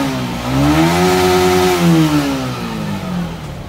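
Yamaha MT-15 motorcycle with its engine check light on, revving close by in a steady rising and falling sweep that swells twice before settling back toward idle, with no voices.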